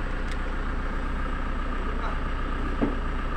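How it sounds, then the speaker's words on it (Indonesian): A Toyota Innova with a 2KD diesel engine idles steadily and evenly nearby after starting, a continuous low rumble with a faint tick and no clear crank in the clip. "Untuk mesinnya hidupnya sudah sudah gampang."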